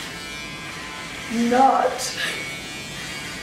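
An electric shaver or trimmer buzzes during a shave, a faint steady hum that swells briefly in the middle, with a person talking over it.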